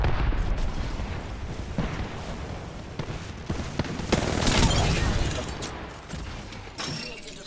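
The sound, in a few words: grenade explosions in the video game Apex Legends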